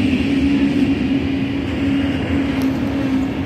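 A train at Roma Tiburtina station gives off a loud, continuous rumble with a steady mechanical hum and no voices, holding even for the whole stretch.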